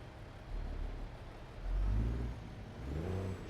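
A Peterbilt 389 truck with straight pipes and a DD60 engine in American Truck Simulator rumbles at a low pitch, swelling twice in deep revving surges over a steady drone.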